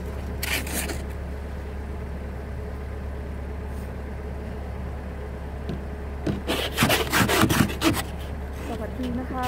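Ice is scraped off a car windscreen on a cold morning, a rough rubbing rasp with a brief burst early on and a louder run of scraping strokes near the end over a steady low hum.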